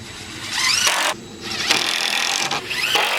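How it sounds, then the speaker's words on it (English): Power drill driving 1 1/4 inch deck screws into wood during a chicken coop build: loud, close whirring runs broken by short pauses, each run ending as a screw seats, with no talk. "Now we're going to use 1 1/4 inch deck screws."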